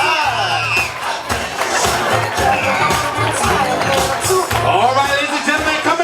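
Wedding guests clap steadily as the bridal party enters, a dense patter of applause mixed with cheers and whoops, while a voice talks over the crowd.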